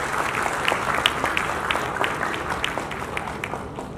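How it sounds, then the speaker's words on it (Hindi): An audience at a government textile event claps to welcome a minister, a steady close wash of applause with a few sharper individual claps standing out, gradually easing off. "मैं चाहूँगा कि आप सब तालियों से उनका स्वागत"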